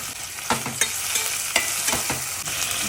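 Chopped onion, green chili and tomato frying in a pan, a loud, close sizzle with repeated bursts and crackles as pieces hit the hot oil and get stirred, no talking.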